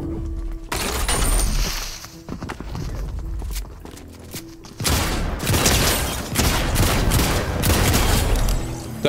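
Bursts of gunfire in a Fortnite Chapter 4 Season 4 match, rapid crackling volleys with thuds and booms, loud and dense, louder in the second half, with no talk over them.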